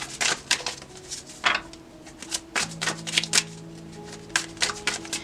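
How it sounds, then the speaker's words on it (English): Tarot cards shuffled in repeated riffling bursts, close and fairly quiet, with short pauses between shuffles and no talking. "We're going to keep pulling cards though."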